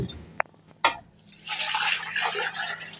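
Water pours steadily into a cooking pot of lentils, a splashing gush that builds after a couple of sharp clinks and knocks, running on as a continuous liquid rush.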